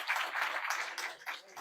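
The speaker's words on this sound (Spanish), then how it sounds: "Un aplauso" Applause rises at a forestry science event in Mexico, a dense wash of clapping from the audience that holds steady for a moment, then dips and surges again.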